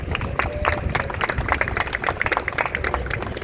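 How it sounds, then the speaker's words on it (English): Crowd applause at an outdoor Pride flag raising with a governor present, for a county commissioner: steady dense clapping throughout, with whoops and a voice faintly mixed in. "Let's give a round of applause for Commissioner Romano"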